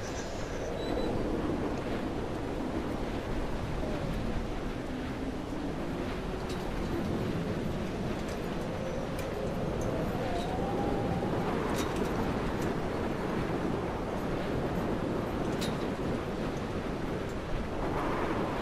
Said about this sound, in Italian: davvero questo vento è come se lo sentissi sulla pelle io adesso